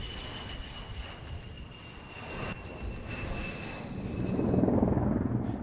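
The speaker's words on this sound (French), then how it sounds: "Participent aussi des hélicoptères de transport," A military transport helicopter's rotor and engine drone steadily during a war exercise, swelling louder toward the end as it passes close, with a high whine over the rumble.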